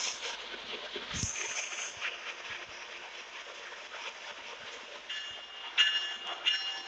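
A train rolls along the rails with a steady rumbling hiss and faint clatter, and a thin high squeal rises briefly near the end.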